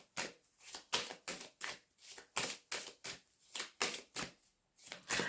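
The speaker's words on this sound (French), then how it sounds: "je vais recouvrir certaines cartes" Tarot cards are handled and laid down in a fast, steady rhythm of about a dozen crisp, papery slaps and shuffles, close and fairly loud, with no voices.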